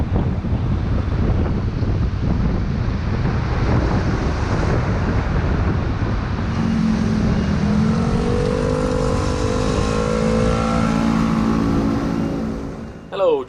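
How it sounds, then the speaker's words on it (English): Steady traffic noise on a Taipei street, with cars and scooters rolling past and engines revving, heavy wind buffeting the microphone throughout, and a rising engine hum in the latter half. "Hello, traffic."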